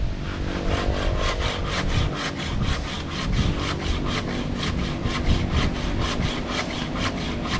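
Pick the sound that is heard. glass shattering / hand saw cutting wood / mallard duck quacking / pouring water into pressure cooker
hand saw cutting wood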